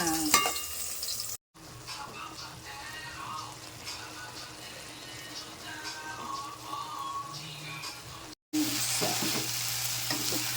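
Ginger, garlic and onion fry in a pan with a continuous soft sizzle and scattered stirring clicks, interrupted twice by brief silent gaps, with a faint voice now and then underneath.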